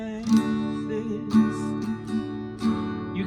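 Strummed acoustic guitar chords in a simple beginner song section, played alone with a clear strum accent roughly every second and ringing sustained tones between.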